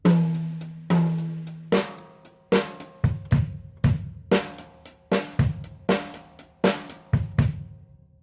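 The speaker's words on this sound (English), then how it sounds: "So I think this phrase from that high tom-tom sounds like this." A drum kit plays a phrase on the high tom-tom: a series of sharp, resonant hits in an uneven rhythm, some in quick pairs and clusters, loud and close with no talking.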